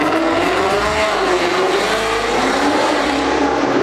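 Ford Mustang accelerating hard at a car meet, a continuous loud engine roar with rising tone and hints of tire squeal, steady throughout with no talk.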